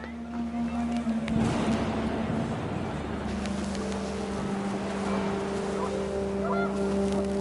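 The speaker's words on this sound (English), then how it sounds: "The wind picked up and panicked geese appeared and quickly went." Panicked geese honk and flap away amid gusting wind in the game What Remains of Edith Finch, a burst of flurried cries rising over a steady windy, rumbling backdrop.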